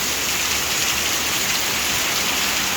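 Heavy rain falls in a loud, continuous hiss and patter, close and unbroken, with nothing else audible over it.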